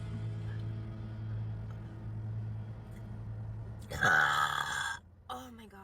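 A loud burp from a woman who films herself burping, bursting out after a low steady hum, then a brief vocal sound follows.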